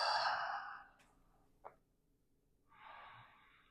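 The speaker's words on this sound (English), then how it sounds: "Exhale." A person exhales during a yoga session: a long breathy sigh, then a short sniff, then a second softer outbreath, all quiet and close with no talking.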